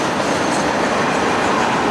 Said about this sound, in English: Completely impossible train to ride right here. As you can see, it's just tractor trailers.